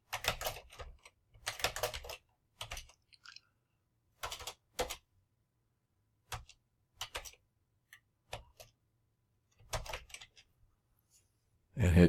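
Typing on a computer keyboard comes in short bursts of close, crisp key clicks separated by pauses of silence, with no one speaking.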